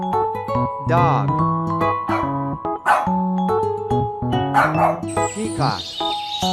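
A dog gives a few short yips and barks over a continuous musical backing, with brief, bright bursts scattered through the stretch.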